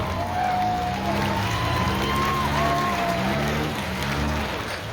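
Crowd at a county fair demolition derby for compact Honda Accord cars on a figure 8 track applauds, a broad, distant wash of clapping and cheering under steady outdoor noise, with a voice calling out.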